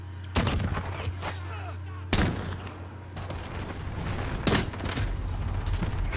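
Several sharp bursts of Call of Duty: Modern Warfare gunfire crack out at irregular intervals over a steady background hum, loud and close, on the Shipment map with a 725 shotgun.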